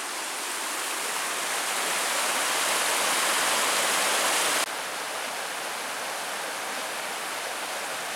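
A steady, broad rush of flowing water fills the scene as a creek pours along into Bowman Lake in Glacier National Park, with a slight drop in level midway through.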